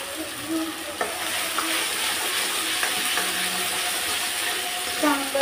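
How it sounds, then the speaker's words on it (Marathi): Ground masala paste with crushed garlic and a pinch of asafoetida sautéing in hot oil for a Marathi katachi amti, a steady broadband sizzle with occasional stirring scrapes and clinks, close and fairly loud throughout. "चांगलं लालसर परतून घ्यायचं."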